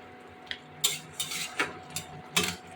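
Poppy seed paste being stirred in a cooking pot, with scattered metallic scrapes and clinks of a utensil against the pot at an irregular pace, close and fairly quiet.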